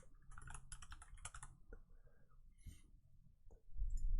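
Rapid key clicks from a computer keyboard, typed in quick bursts and fairly close, with low room rumble and no voices.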